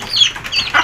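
Native chickens cluck while eating vegetables, a few short close clucks in quick succession.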